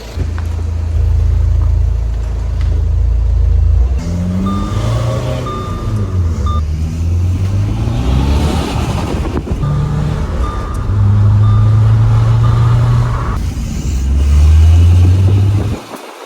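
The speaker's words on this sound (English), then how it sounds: "Car running very nice." A diesel Audi A4 B8 engine idles and revs in repeated surges, rising and falling in pitch, with a brief beeping tone at moments.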